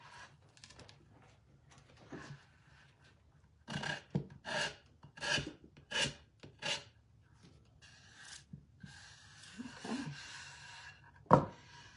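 Wood being hand-sanded before a top coat goes on, a run of rhythmic rasping strokes up close in a quiet room, with a sharp knock near the end.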